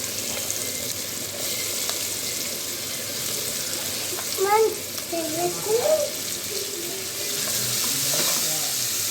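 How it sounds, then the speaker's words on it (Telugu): Onions fry in a pan for Andhra chicken curry, giving a steady bright sizzle with a few stirring scrapes and faint voices in the middle. "ఉల్లిపాయలు బాగా వేగాలండి కొద్దిగా."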